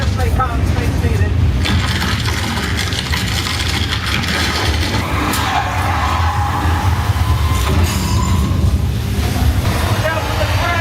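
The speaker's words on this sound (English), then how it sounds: "It's an earthquake." Simulated earthquake effect on a Universal Studios Hollywood tour tram: a loud, continuous low rumble with mechanical rattling and clanking that runs steadily throughout, with people talking over it.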